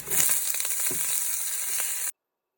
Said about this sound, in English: Heat the olive oil, add some garlic, throw in your spinach